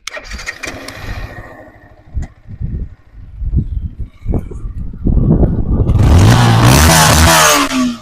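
A new Yamaha R15 V4 motorcycle engine starts up after some handling noises, then runs loudly and steadily close by, with a rough, throaty rumble.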